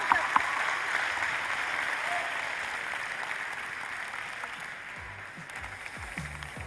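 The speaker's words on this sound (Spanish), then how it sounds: "Un aplauso fortísimo" Concert crowd applauding after a song, a steady wash of distant clapping and cheering that holds evenly at moderate volume and slowly eases off.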